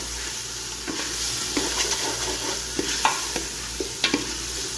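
Chopped pumpkin sizzles over a high flame in spiced masala in a pan, a steady close frying hiss broken by scattered stirring taps and scrapes.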